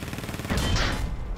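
Video game gunfire from a fast-paced shooter, a dense burst of rapid shots kicking in halfway through and running steadily to the end, loud and close with no talk over it.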